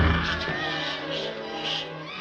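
Several cats yowl and caterwaul together in a loud, drawn-out, wavering chorus that carries on without pause, close and harsh.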